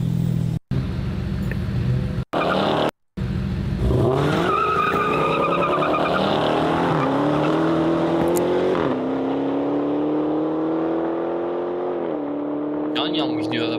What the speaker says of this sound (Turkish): Bu da Challenger. Bu ne? Dodge Challenger bu.